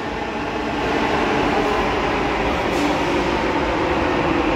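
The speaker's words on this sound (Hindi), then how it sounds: "ये मेट्रो आ गई है गाइस हमारी" Delhi Metro train pulling into an underground station, a steady loud rumble and rushing hum of the cars that swells in the first second and holds continuous, with no voices.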